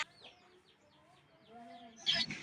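A sick young chick after medication gives several faint, thin peeping chirps in a quiet indoor setting, ending with a brief louder rustle.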